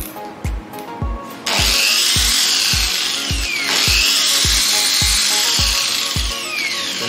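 An ALDO type 501 polisher spins up to speed setting 3, a rising whine that settles into a loud, steady high-pitched hum, overlaid by a regular series of low thumps.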